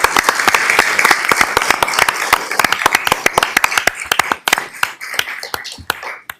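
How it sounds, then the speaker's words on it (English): A town council meeting audience applauding a group of Scouts, a loud, close round of clapping that grows sparser and more separated before trailing off. "Let's give them a round of applause."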